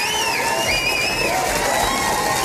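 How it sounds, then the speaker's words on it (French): Audience at a music talent contest final in Maine applauding and cheering with dense, continuous clapping and shouts that fill the entire moment. "On les applaudit."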